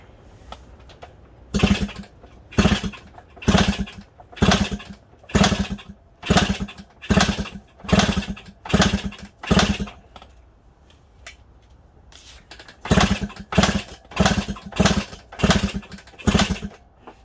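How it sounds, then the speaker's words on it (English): A Suzuki DS100 motorcycle is kick-started repeatedly without firing, giving a series of loud, rhythmic mechanical thumps roughly every second, a short pause, then another run of kicks. "I'm just going to give it a couple of kicks"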